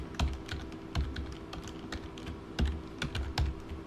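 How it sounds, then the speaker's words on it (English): Typing on a computer keyboard, sparse irregular key clicks with a few heavier thumps like the space bar, close and fairly quiet, with no speech. "Okay, and I'm just going to type,"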